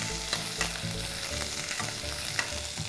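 Mustard seeds, curry leaves and crushed ginger-garlic sizzle and crackle in hot oil for a jackfruit curry, a steady frying hiss with sharp pops and stirring scrapes, close and continuous with no talk.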